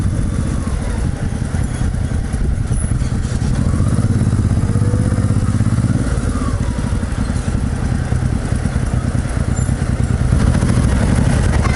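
Scooters drone past on a busy resort-town street, a loud, continuous engine buzz rising and falling as they pass close by.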